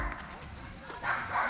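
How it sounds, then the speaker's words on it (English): A dog barks a few times in the background, muffled and moderately distant, under a voice that keeps talking through the short stretch. "That dog doesn't want to stop barking."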